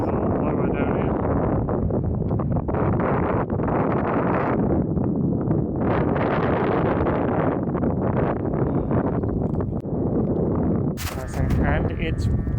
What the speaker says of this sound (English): it's windy, so you might not hear me very well